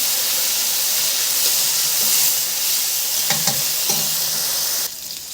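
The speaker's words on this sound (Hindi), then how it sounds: "टमाटरों को भी अच्छे से फ्राई कर लेंगे ताकि टमाटर अच्छे से घुल जाएं।" Tomatoes frying in a pan while being stirred, a loud continuous sizzle and hiss with a few clanks of the spoon against the pan before the sizzle drops quieter near the end.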